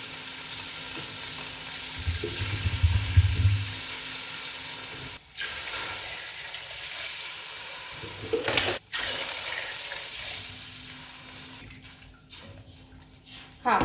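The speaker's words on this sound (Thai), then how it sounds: "นี่ก็ตามด้วยน้ำสะอาดเลยนะคะ ใส่ให้ท่วมหมูเราเลยนะคะให้ท่วมไปเลย" Clean water is poured into a pot over pork belly being braised with shiitake mushrooms, producing a steady watery hiss and sizzle that rises for a few seconds, then settles into a continuous bubbling wash with a couple of brief dips.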